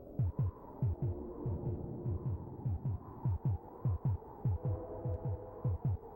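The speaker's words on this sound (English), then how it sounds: "I left you guys listening to this sped up heartbeat" Sped-up heartbeat effect from the SNES game Populous, a steady rapid double-thump pulse repeating about three times per second over a low throbbing hum, loud and alone with no talk.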